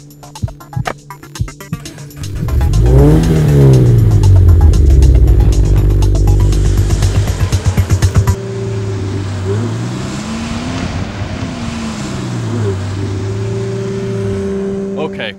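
Scion FR-S sports car on a race track, engine revving hard with rising and falling sweeps through the gears, loud and close, then settling into a steadier cruising drone with periodic pitch swells; a voice talks over parts of it.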